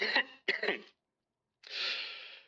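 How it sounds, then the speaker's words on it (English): A person coughs twice in quick succession, then after a pause gives a longer breathy throat-clearing rasp, close and alone with no talk. "Was that a real cough?"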